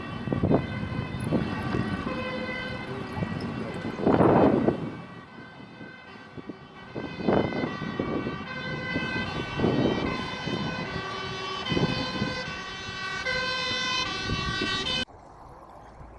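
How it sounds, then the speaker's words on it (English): Emergency vehicle siren wailing in long rising and falling tones for about fifteen seconds, fairly close and loud, recorded during a bicycle ride with wind noise, then cutting off abruptly near the end. "We're getting a siren."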